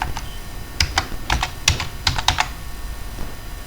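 Quick, crisp keystrokes on a computer keyboard while code is being typed, an irregular run of close clicks over a light background hum.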